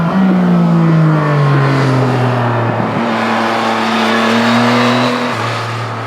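A Yamaha XSR900 GP motorcycle engine and exhaust drone loudly and steadily, the pitch easing down through shifts in a smooth, continuous tone heard up close.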